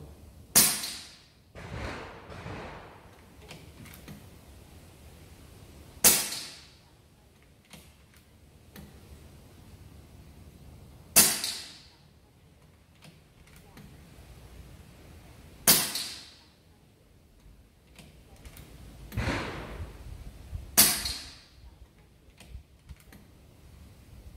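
Five sharp, isolated shots from a Kalibrgun Cricket Tactical 2 5.5 mm air rifle ring out several seconds apart, each a crisp snap followed by a short metallic ring, with quiet pauses between.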